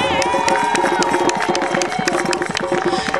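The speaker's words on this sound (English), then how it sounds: "Want y'all to give them a round of applause." Crowd at a Gullah/Geechee community festival gathering cheering and shouting loudly, with children's voices mixed in, a dense continuous roar filling the whole moment.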